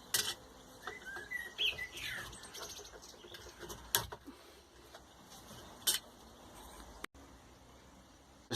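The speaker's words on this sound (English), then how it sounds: "Got a blackbird in the background chirping away to cheer me on." A blackbird chirps in short bright bursts against a quiet outdoor background, with a few sharp clicks and knocks nearby.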